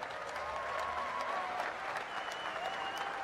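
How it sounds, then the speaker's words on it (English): Sustained applause from a crowd at the 2019 Arnold Strongman Classic, a broad steady wash of clapping with some cheering, continuous and fairly even in level throughout. "I would like you to give a big round of applause, not only to Dr. Terry, but to all of these people who are here to honor him"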